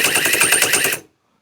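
A tiny 7cc model engine clattering with a harsh, rapid metallic clang, an even buzzing rhythm that runs loud for about a second and then cuts off abruptly into silence.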